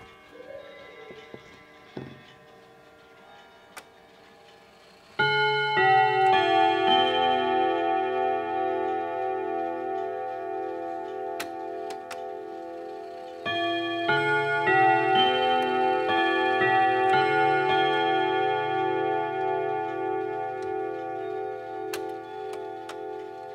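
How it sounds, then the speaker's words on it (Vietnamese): An antique French Voyrex clock with a steel T-shaped gong set strikes and chimes, loud ringing strokes in two long sustained phrases over a soft tick in the background, with no talking. "Đấy là âm thanh tiếng chuông của chiếc đồng hồ Voyrex trên cái bộ gông chữ T thép nổi tiếng ạ."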